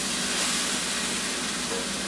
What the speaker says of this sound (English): I love the sizzle, baby!